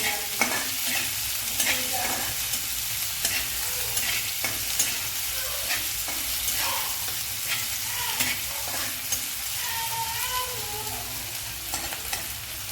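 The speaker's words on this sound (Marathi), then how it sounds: "त्यात टाकूया कांदा कांदा छान लालसर होपर्यंत परतून घ्यायचा आहे" Onion frying in a pan until reddish, a continuous close sizzle with frequent scraping stirs running throughout.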